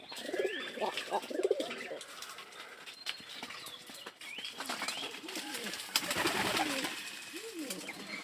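Pigeons at a pigeon farm coo steadily, with several birds' low rolling calls overlapping, occasional wing flaps and faint chirps, while a voice talks intermittently nearby.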